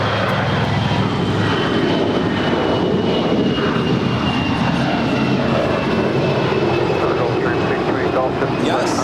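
A passenger airplane rolls for takeoff from runway 25 left at Los Angeles International Airport, a steady broad engine roar holding strong throughout, with radio voices from air traffic control heard faintly over it.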